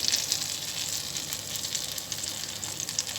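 Butter with red pepper flakes sizzles loudly and steadily in a pan, a close, even frying hiss with no talk over it.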